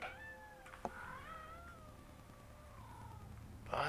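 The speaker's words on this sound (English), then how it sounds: "that was one of your more distressed little meows right there" A distressed cat gives a series of drawn-out, wavering meows, close and fairly loud, against a quiet background, with a brief sharp knock near the start and a noisy burst at the end.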